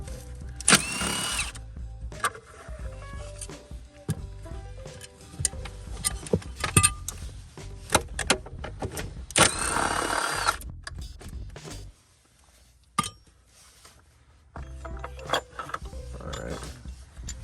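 A hand tool, likely a ratchet, works the 10 millimeter bolts on the battery tie-downs of a 2007 Audi Q7, with repeated close metallic clicks, tool clinks, and short bursts of rougher noise, then a brief quiet gap before more handling.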